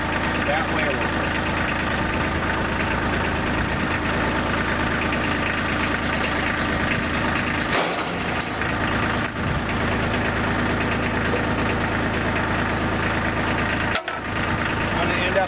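A tractor engine idles steadily and close by, a continuous even rumble that holds throughout, with a brief dip partway through and faint talk now and then in the background.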